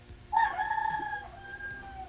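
A single rooster crows nearby, a bright drawn-out call that trails off over about two seconds.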